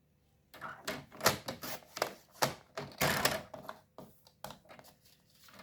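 Scissors cut the bottom edge of a small paper artist trading card with a series of close, crisp snips and crunches in an uneven rhythm, with no talk.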